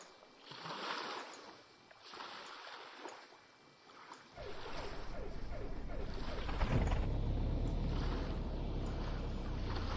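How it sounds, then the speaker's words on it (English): Aircraft engine starting in the FlightGear flight simulator game: quiet ambience with soft whooshes, then a sudden loud rumbling roar that keeps running steadily to the end, under a faint whine and with no speech. "Start the engine."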